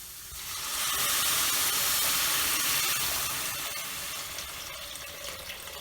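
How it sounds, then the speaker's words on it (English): Water pours steadily into a cooking pot on a high flame, a loud, continuous hissing splash that swells after the first half second and then slowly eases off, with no talking. "Now I'm going to add in water."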